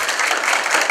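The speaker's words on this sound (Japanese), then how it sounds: "次はケビンが良かったと思う人、拍手。" An audience at a high school improvised dance battle claps, a short dense burst of applause filling the whole moment.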